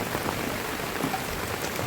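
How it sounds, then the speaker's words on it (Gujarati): Steady rain pours down outdoors onto a parked car and the ground around it, a constant, even patter that runs without a break. "હવે વરસાદ તો આવે જ છે"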